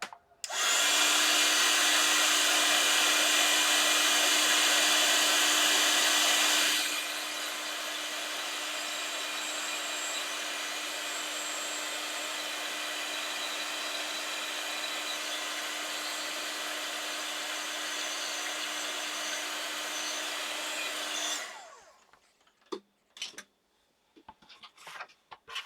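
A heat embossing tool sets embossing powder on Christmas-themed pages: a steady loud fan-driven whoosh and whine that runs for about twenty seconds, dropping slightly in level partway through, then cuts off, leaving a few small handling clicks.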